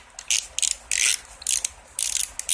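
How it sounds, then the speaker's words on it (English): Quick ratchet clicks come in short bursts, close and crisp, as the carburetor bolts on a Murray 11A-A1BF758 lawn mower are snugged down. "You notice I'm just snugging my bolts down here where they're tight"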